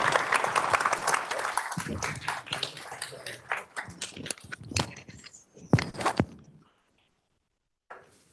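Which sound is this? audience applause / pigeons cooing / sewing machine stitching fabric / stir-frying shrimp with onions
audience applause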